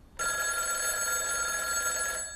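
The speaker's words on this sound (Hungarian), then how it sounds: "Felvegyem a telefont?" A telephone bell rings in one continuous, bright metallic trill lasting about two seconds, close and clear over quiet room tone.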